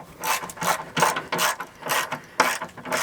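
Ratchet clicking in bursts while loosening three factory 17mm head bolts on a 2021 Jeep transmission skid plate, several quick rhythmic ratcheting strokes, close and fairly loud with no talk.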